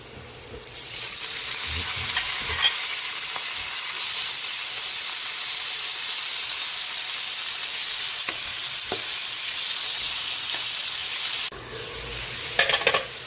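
Pork cubes and ginger sizzle and fry steadily in a pot while being stirred, a continuous loud hiss with occasional scraping clinks, no talking, as part of making pork batsoy soup.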